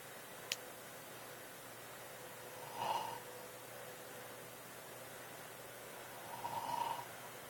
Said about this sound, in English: Hear that? My grandma's snoring.